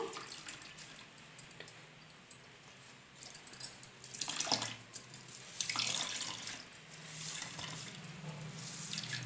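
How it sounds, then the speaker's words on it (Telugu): Water splashes and trickles in bursts as a wet handkerchief is wrung out, the drips and pours rising and falling close by. "వేసుకొని వాటర్ అంతా ఇలా పిండేద్దాము"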